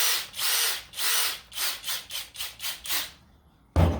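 A Kobalt X.T.R. cordless impact driver whirs in a run of short trigger bursts, about ten quick pulses in a steady rhythm, close and fairly loud, ending in a brief sharp final burst.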